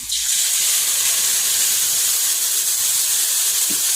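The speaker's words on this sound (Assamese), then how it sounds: "এতিয়া মই যিটো গ্ৰীণ পেষ্ট বনাই থৈছিলোঁ, এই গ্ৰীণ পেষ্টটো মই ইয়াতে দি দিম।" Green paste hits potatoes frying in oil in an Indian home kitchen, setting off a loud, steady steam-and-oil sizzle that swells at once and holds unbroken, close up with no talk.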